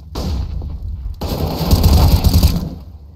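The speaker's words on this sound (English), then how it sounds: "Deploying flashbang." A flashbang goes off in Counter-Strike: Global Offensive, a loud, heavy boom with a ringing, sustained blast following a short thump, up close and with no talk over it.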